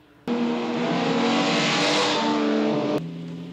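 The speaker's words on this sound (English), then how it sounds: "I like how they squeal tires on dirt roads." Car from a 1960 television drama speeding on a dirt road, a loud sustained engine roar with a long tire squeal starting abruptly and cutting off about three seconds later.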